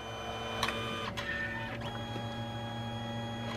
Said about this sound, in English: So it actually goes in and out the printer 3 times.